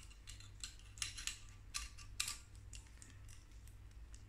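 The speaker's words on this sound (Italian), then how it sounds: "Schiacciamo con forza e giriamo in senso orario l'anello finché fa il click." Leica-R to Canon EOS adapter ring pressed and twisted clockwise onto a lens until it locks, giving several small sharp metallic clicks and ticks close to the microphone over a steady low hum.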